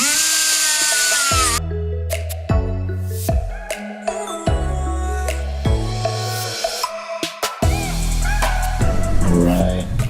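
A power tool grinds down welds on an Audi B8 A4 differential in repeated whining bursts, each winding down in pitch, close and fairly loud.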